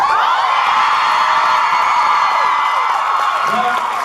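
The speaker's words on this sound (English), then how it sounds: "by round of applause, who agrees with me that nerd is the new hot sexy?" A packed convention panel audience roars with sustained cheering and whoops over steady clapping, loud and continuous throughout, with a few shouted voices rising near the end.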